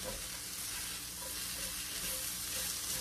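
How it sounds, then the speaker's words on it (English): Onions and mushrooms sizzle steadily in a skillet over medium-low heat, a continuous close frying hiss with no talk. "going to cook these until the onions start to caramelize. And the mushrooms turn a beautiful golden brown and cook."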